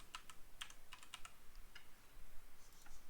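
Soft, quick keystrokes on a computer keyboard as a chart title is typed in Excel, a scattered run of light clicks in a quiet room.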